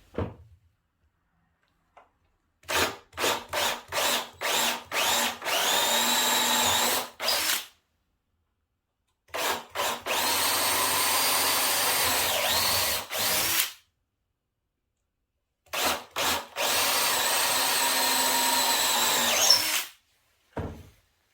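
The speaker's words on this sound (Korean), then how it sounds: "이걸 분리를 하려고 목심 비트를 준비해서 작업을 해볼까 합니다" A power drill with a plug cutter bit bores into pallet wood in three bursts of a few seconds each, loud and close, with brief pauses and a sharp clack between them.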